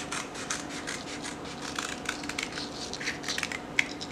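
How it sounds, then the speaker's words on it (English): Paper scissors snipping through paper card for DIY playing card holders, with soft close rhythmic cuts and faint rubbing, quiet and without talk. "we're going to just cut those out with the paper scissors"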